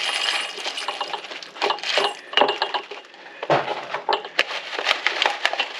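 Coarse rock salt pours and rattles into a container of coon shrimp being cured for salmon bait, a busy run of gritty clinks and patters up close with no talking.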